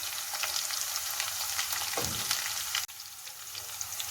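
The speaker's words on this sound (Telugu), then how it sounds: "ఆనియన్స్ ఫ్రై అయినాయండి." Onions and green chilies fry in hot oil, giving a continuous crackling sizzle with a brief stir or scrape partway through, close and fairly quiet with no talking.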